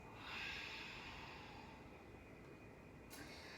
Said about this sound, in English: Last breath. And last exhale.